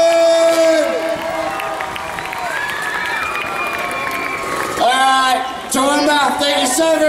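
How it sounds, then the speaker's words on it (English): A dense crowd at an agricultural show cheers and shouts loudly, with whoops and excited voices filling the space; the roar briefly dips then surges again near the end. "How about a round of applause once again on FMX Girls, Michael Chuck Norris, Tom Robe"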